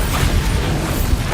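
The Bombarda explosion spell in the video game Hogwarts Legacy goes off as a loud, low, rumbling blast with a crackling burst that fills the whole short moment, close and heavy, with no voice over it.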